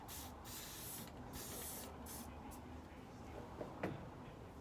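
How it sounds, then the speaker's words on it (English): Several short hissing bursts of spray paint land on a medicine ball, faint and fairly distant over a steady low background rumble, followed by a light knock or two. "I'm just going to spray paint the center here"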